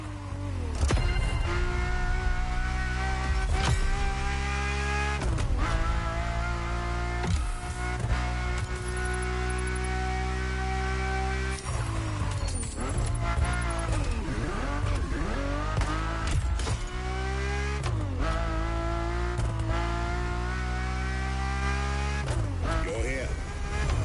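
Ferrari F40 and F50 engines in The Crew Motorfest racing game: a loud, steady, droning engine note that holds and then shifts pitch abruptly several times, with possible tire squeal, running continuously throughout.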